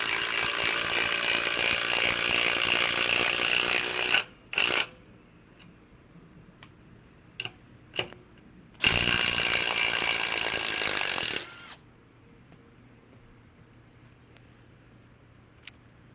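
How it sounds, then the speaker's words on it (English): Milwaukee M12 Fuel 3/8 in. cordless impact wrench running at close range: two long bursts of dense, rapid hammering a few seconds each, separated by short clicks and handling taps, then quiet. "this is the only impact wrench you're going to need"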